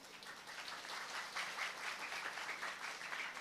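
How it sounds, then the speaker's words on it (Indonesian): A steady wash of audience applause at a comedic Islamic sermon by a kiai, many hands clapping continuously at a distance, fairly faint and unbroken throughout. "Tepuk tangan."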